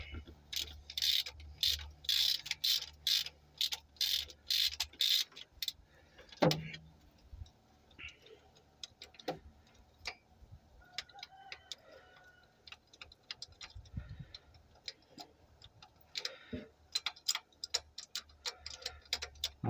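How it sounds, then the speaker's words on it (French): A ratchet with a long 16 mm socket clicks rapidly in bursts while loosening spark plugs on a 1983 Peugeot 205 GR with XY engine, sharp close ticking runs separated by pauses and occasional knocks and clunks. "je commence par toutes les dévisser. Je vais toutes les dévisser en même temps"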